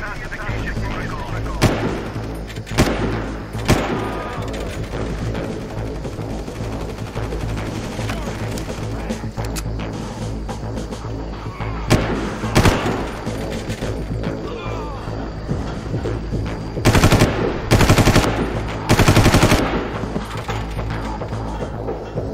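Gunfire in the Far Cry first-person shooter, with sharp rifle shots and loud machine-gun bursts over continuous background game sound, plus talk in places.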